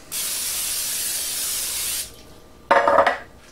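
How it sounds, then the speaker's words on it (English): A steady spray of olive oil cooking spray hisses for about two seconds, followed by a brief clatter of a metal pan being handled. "Get some spray olive oil, spray them real nice."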